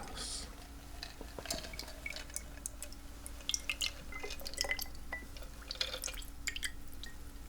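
A Godfather cocktail is strained into a glass at a skyscraper bar, with soft dripping and trickling liquid, light glass clinks and a faint steady hum underneath, quiet and close.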